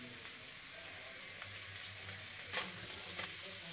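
Potatoes fry with a continuous sizzle in a steel kadhai while a spoon stirs and scrapes, the crackle dense and steady, with a few louder scrapes near the end.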